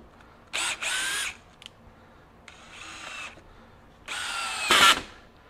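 A DeWalt DCD794 20V brushless stubby drill driver drives a 2-inch drywall screw into pressure-treated 2x lumber, whirring in three separate short bursts with quiet pauses between them.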